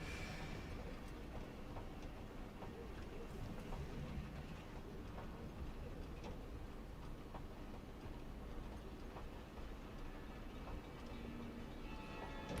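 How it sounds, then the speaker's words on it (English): Amusement park train at Silver Dollar City, a steady rumbling roll with faint rhythmic clacking that stays constant and fairly distant throughout. "Oh no, it's a train."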